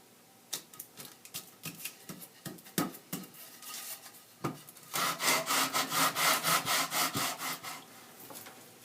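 Scraping strokes of sanding across the flat wooden top of a handmade guitulcimer, first scattered separate rubs, then a fast even run of rhythmic back-and-forth passes, close and fairly quiet.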